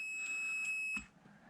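A multimeter's continuity beep while its probes test soldered capacitor legs on a 1st Gen Cummins PCM circuit board, a steady high electronic tone with a few faint clicks, then cutting off abruptly.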